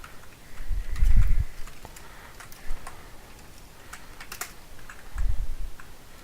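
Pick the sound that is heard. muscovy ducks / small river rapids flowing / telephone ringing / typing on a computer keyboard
typing on a computer keyboard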